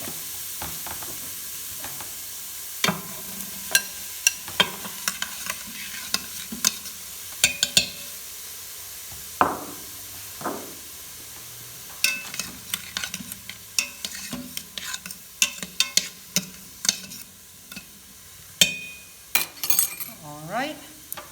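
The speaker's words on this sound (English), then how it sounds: "And you can hear the sizzle" Onions fry for chili in a pan, a soft steady sizzle running beneath frequent scrapes and clinks of a utensil stirring against the cookware.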